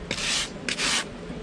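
Float rubbed over fresh sand and cement render on a window sill, two close scraping sweeps with a short pause between them.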